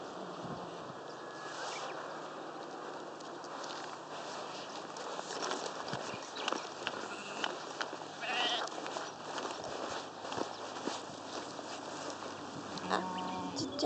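Sheep bleat repeatedly over a steady outdoor hiss, several animals calling at moderate distance with short overlapping cries.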